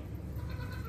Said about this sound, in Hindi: उसके बाद ना 2 नंबर वाली बकरी आपको दिखा रहे हैं जी।